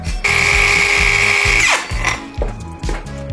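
A Vrill VBC220SE cordless mini circular saw spins up with a loud, steady high-pitched whine for over a second, then winds down, followed by a few softer rhythmic thumps and rattles nearby.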